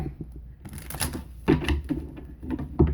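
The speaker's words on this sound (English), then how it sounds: "let me get a couple good shuffles in here" A deck of tarot cards is shuffled by hand in a series of close, crisp riffling clicks and soft slaps. The bursts come in uneven clusters with brief pauses between them, and nobody speaks.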